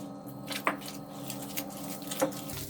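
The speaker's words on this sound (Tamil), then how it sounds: "லைட்டாக கொஞ்சம் தண்ணி விட்டுக்கலாம்" Water poured into bread pakoda batter in a home kitchen: faint, soft splashing with a couple of brief wet clicks over quiet background hiss.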